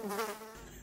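A housefly buzzes briefly near the microphone, a short whining hum lasting under a second, followed by a sharper sound at the end.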